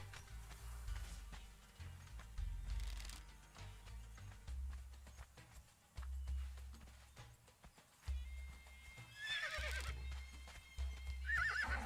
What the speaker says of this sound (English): I figured out a name for this horse here.